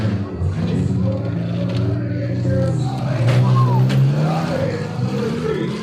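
Demolition derby cars at a county fair grinding and revving engines in a dirt arena, loud rumbling with rising throttle bursts and crunching impacts, under an announcer's voice over a public address system and crowd noise.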